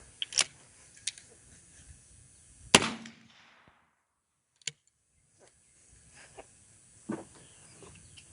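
A 20 gauge shotgun fires a single handloaded shell with a sharp, loud bang that decays quickly, with a few fainter clicks and handling noises before and after it.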